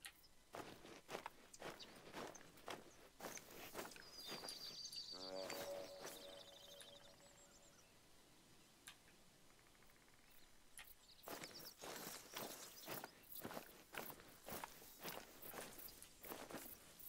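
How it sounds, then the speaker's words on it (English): Footsteps in the hunting video game Call of the Wild, a long series of crunchy steps through undergrowth, steady and fairly close, pausing midway while birds chirp in the background. "I'm hearing footsteps again."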